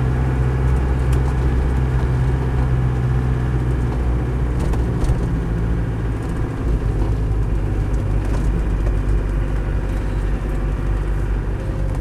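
A Land Rover 110 CSW with a 200tdi diesel, fully rebuilt, drives along with a loud, steady low engine drone and road rumble throughout, with no talking.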